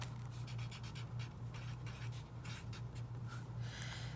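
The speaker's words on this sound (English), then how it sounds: "you'll write your name at the top" Pencil writing a name on a school worksheet, faint close scratching strokes in short repeated bursts over a steady low hum.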